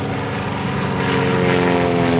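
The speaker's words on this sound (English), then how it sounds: "As soon as the airplane slows down, you kick the rudder and it comes straight back down." A Great Lakes biplane's propeller engine drones loud and close at an airshow, holding a steady, strained roar during an aerobatic hammerhead climb.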